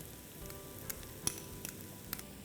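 Chopped onion, garlic and celery sauté in hot oil for a curried coconut sauce, a soft steady sizzle with a few sharp clinks of a spoon against the pan, quiet and close.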